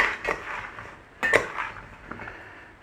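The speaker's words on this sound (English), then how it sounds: "Give that a stir." Cauliflower in olive oil is stirred in a dish before roasting, giving a few close clattering scrapes and knocks of a utensil against the bowl, two stronger strokes separated by quieter rustling.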